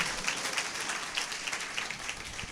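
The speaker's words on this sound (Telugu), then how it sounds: "దేవునికి ఒకసారి గట్టిగా చప్పట్లు కొట్టి దేవుని మహింపరుస్తాం" A church congregation applauding during a Sunday service: a fairly soft, steady patter of many hands clapping, ending in a sudden loud thump.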